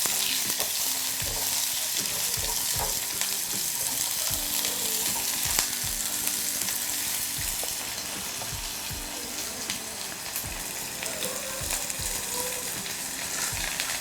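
Crushed garlic, chopped onion and cinnamon bark sizzle and crackle continuously in hot oil in a pan for a curry, with occasional soft knocks from stirring and no talking.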